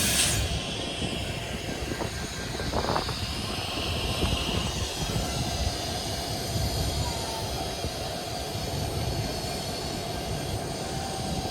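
The Benapole Express train rumbles through Jashore Railway Station with a continuous loud roar of wheels and rail noise, a brief high squeal early on, and a steady hiss throughout.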